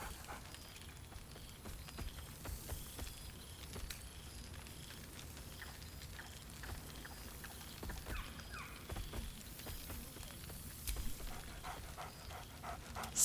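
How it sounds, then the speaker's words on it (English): The dog Scratch in Baldur's Gate 3 panting steadily at close range, with faint soft scuffs and a few brief sharper yips scattered through a quiet background, no talk. "Scratch barks merrily in something like agreement."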